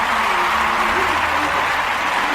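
Audience applause fills the room as a steady, loud wash of clapping that runs the whole time, with someone talking over it.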